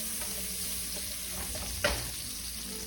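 Ginger sautéing in oil in a pan before beef and garlic go in for ginisang sitaw, a steady close sizzle with one brief stirring scrape partway through, no talk.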